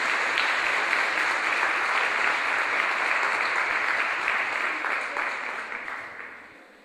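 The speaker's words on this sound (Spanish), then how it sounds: "Les pido por favor, demos un fuerte aplauso al maestro Mario Luis Fuentes" Lecture audience giving a speaker a strong round of applause, dense even clapping that holds steady and then tapers off toward the end.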